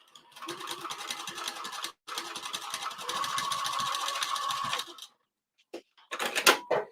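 A sewing machine back stitching a fabric pouch, two close runs of rapid rhythmic needle chatter separated by a brief stop, then silence and a few short bursts.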